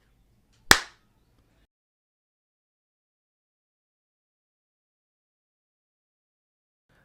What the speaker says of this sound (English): I will put a simple clap here.